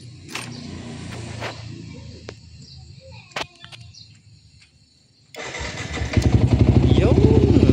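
A motorcycle engine, just fixed with a new starter relay, sits quiet under light outdoor ambience, then cranks once and catches into a loud, steady close-up idle that runs to the end.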